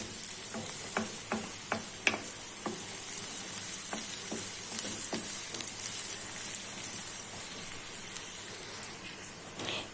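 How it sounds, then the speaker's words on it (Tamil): Onion and green chillies sauté in a pan for a potato puttu, a soft continuous sizzle broken by light spatula clicks and taps, heard close with no talking. "அதில் வெங்காயத்தையும் பச்சை மிளகாயும் சேர்த்து நல்லா வதக்கணும்."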